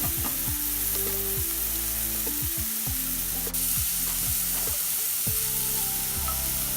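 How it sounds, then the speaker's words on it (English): Pepper, leek, spring onion and red pepper frying in a pan for a rainbow egg chop, a continuous close sizzle with stirring clatter and scraping strokes throughout, no one speaking. "We got to cook them until the vegetables are cooked."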